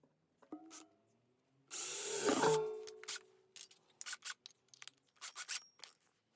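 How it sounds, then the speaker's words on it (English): A hole saw on a power drill bites into a plastic pipe for a shop-vac cyclone build, one loud grinding burst of about a second that cuts off abruptly, followed by scattered faint knocks and handling clicks. "just blew a fuse trying to hole saw that out"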